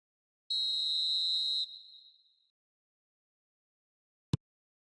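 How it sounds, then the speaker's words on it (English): A referee's whistle in the eFootball video game gives one long, shrill, steady blast that tails off, followed by silence and a single sharp click. "Whistle goes again."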